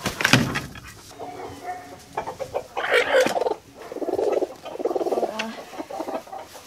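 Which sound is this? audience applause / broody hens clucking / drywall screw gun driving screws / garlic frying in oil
broody hens clucking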